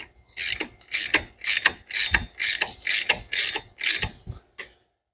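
A ratchet wrench works power steering pump bolts on a turbo Mustang, eight loud, close, evenly spaced bursts of clicking followed by a brief final click, with no talk.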